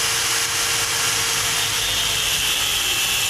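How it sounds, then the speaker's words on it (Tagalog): An impact driver works on a stubborn, stripped Allen head bolt in a steady, loud, close mechanical whir and rattle lasting a few seconds without pause or speech. "gagamitan ko siya ng impact drive"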